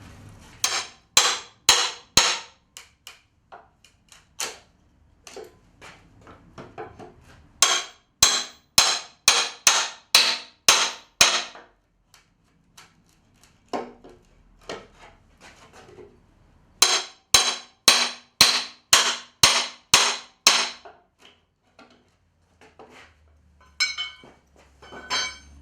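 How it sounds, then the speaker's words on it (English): A crowbar struck with a hammer to lever nails out of pallet wood for a log store, heard as close, sharp metallic blows in quick bursts of about eight to ten strikes, separated by short pauses and scattered single knocks. "with that crowbar and hammer to lever the nails out of here without splitting them"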